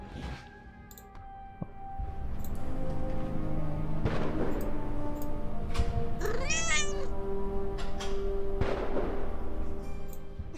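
Cat in the video game Mazowsze: Pogoń w czasie, set in Warsaw, giving one clear, rising-and-falling meow midway, set against steady game background sound and occasional sharp knocks.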